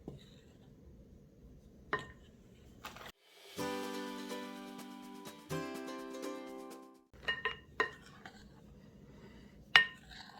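Flour, baking powder, baking soda, cinnamon and salt stirred together in a bowl for zucchini bread: scattered clinks and scrapes of a utensil against the bowl, broken by a sustained tonal passage partway through.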